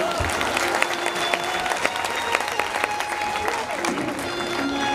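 An audience at a home Ganesh festival gathering claps together in a dense, continuous round of applause, steady and fairly loud throughout with a few sharper individual claps standing out.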